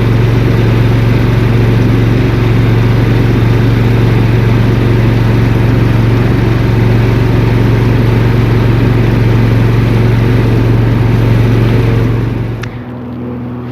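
A JoyT5 JT5SSTM3 walk-behind mini skid steer pushing snow uphill, its small engine droning loud and close with a steady low hum, then cutting off abruptly near the end.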